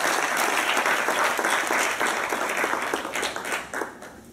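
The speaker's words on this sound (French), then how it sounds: "Madame Conan Clémence, que j'aimerais qu'on acclame véritablement" A conference audience applauds an honoured guest, a dense sustained burst of many hands clapping in a hall, loud and steady, easing off slightly toward the end with no speech over it.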